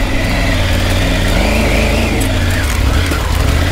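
A Yamaha XT off-road motorcycle engine revs hard and steadily while climbing a steep dirt hill, loud and close, dominating throughout with no talk.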